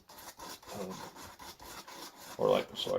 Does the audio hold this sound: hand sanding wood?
yes